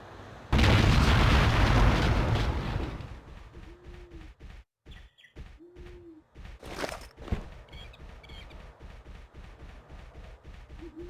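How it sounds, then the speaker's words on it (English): An explosion blows up an object in Hidden & Dangerous Deluxe, a loud, dense blast lasting a couple of seconds, followed by quieter scattered pops and ambient game sounds with bird-like chirps. "Why I have to blow this thing up instead of simply opening it"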